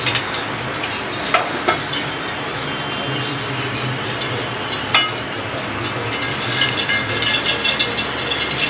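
Cooking oil with margarine sizzling in a pan while sautéed blue crab is being cooked, a loud, continuous frying hiss broken by occasional sharp clicks and scrapes of stirring.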